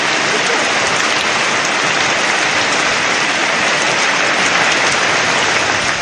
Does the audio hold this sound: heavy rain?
yes